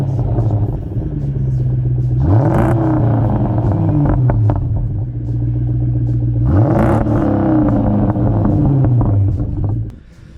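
Supercharged 400 hp Jaguar S-Type R engine droning loudly at a steady cruise around 2000 rpm, its low rumble swelling twice in quick rev rises before settling back, continuous and close throughout.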